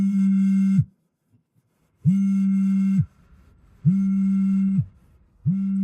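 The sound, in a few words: phone call ringing unanswered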